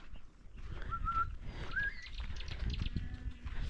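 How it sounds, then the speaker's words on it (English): Birds chirping in a hillside forest, a few brief whistled calls rising over steady outdoor background noise and low rumble. "You can literally just sit down and just listen at the sounds, like the chirping of birds."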